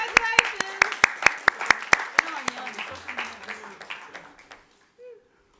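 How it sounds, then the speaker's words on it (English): Sparse applause at a music mixing awards ceremony, a handful of sharp claps in a slow, irregular rhythm that thins out and fades, with faint room murmur, for a prize winner joining remotely. "Can everyone give her a round of applause?"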